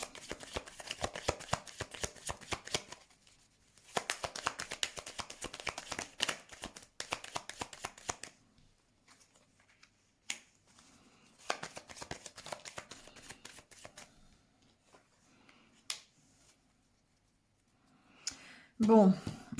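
Tarot cards are handled and laid out on a surface in bursts of soft shuffling, sliding and tapping, broken by quiet gaps and a short stretch of speech near the end.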